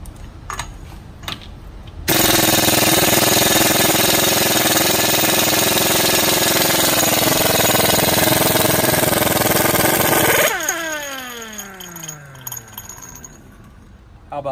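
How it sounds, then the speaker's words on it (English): A compact SP Tools mini half-inch drive stubby impact gun hammers on a large nut through a heavy 46 mm socket, making a loud, sustained rattling burst of about eight seconds before it winds down with a falling whine. "This thing is a beast for a tiny little impact gun."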